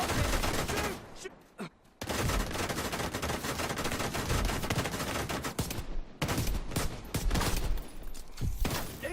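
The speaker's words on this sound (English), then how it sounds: "Now I shoot the pistol" Gunfire in the shooter video game The Division 2, heavy and continuous, with rapid overlapping shots that pause briefly only a couple of times.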